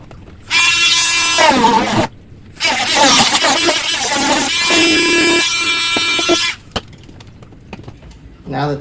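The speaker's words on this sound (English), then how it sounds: "We're going to use the Dremel to do that." A Dremel rotary tool trims a plastic part during a cage conversion, whining loudly in two long bursts with a short pause, followed by light handling clicks.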